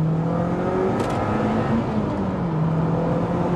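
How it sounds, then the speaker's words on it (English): A Lotus Elise 240 Final Edition revs hard in second gear on a road trip, its engine note climbing and pulling steadily, loud and close for several seconds with no talk. "I can use full revs and give it some beans."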